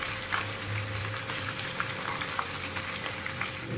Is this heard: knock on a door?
no